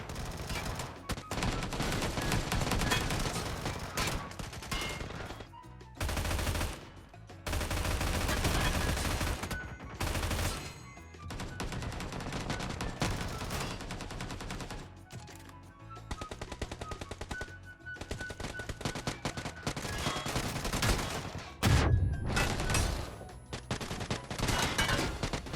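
Rapid hip-fire gunshots in the mobile battle royale game PUBG, dense automatic bursts that run almost continuously with a few short gaps, loud and close, with no talk over them.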